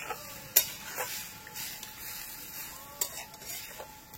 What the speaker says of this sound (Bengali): এরকম খুন্তি দিয়ে প্রথমে একটু নাড়িয়ে দেবো।